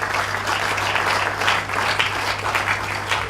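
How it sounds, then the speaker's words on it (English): Steady applause from an audience at a graduation ceremony in Ibadan, a dense continuous patter of many hands clapping with no voices over it, holding level for the whole stretch under a faint low electrical hum. "and he deserves a round of applause too"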